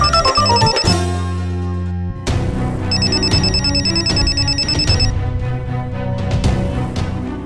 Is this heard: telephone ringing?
yes